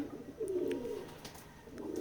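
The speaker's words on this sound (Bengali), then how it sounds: "এটা আমাদের ফার্ম হাউস, কবুতরের খামার। আপনারা দেখতে পাচ্ছেন আমাদের এই খামারে অনেকগুলাই কবুতর আছে" Pigeons at a pigeon farm cooing: soft, low, rolling coos from nearby birds, one drawn-out call standing out over a faint background of more distant cooing.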